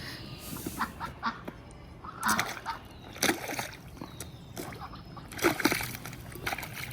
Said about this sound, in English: so that the ducks have somewhere to go and drink some water and also clean themselves